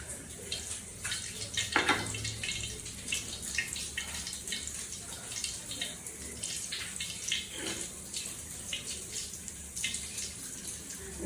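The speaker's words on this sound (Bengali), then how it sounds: "আমি এক বাটি সরিষার তেল দিয়ে দিচ্ছি।" A bowl of mustard oil poured into a cooking pot, a soft continuous liquid pour and sizzle-like wash, close and moderately quiet, steady throughout with no talk.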